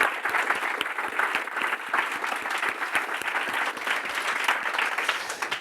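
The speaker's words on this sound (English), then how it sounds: "So one more round of applause," An audience at a business event applauds speakers and panelists, sustained, moderately distant clapping from many hands continuing evenly for several seconds with no voices over it.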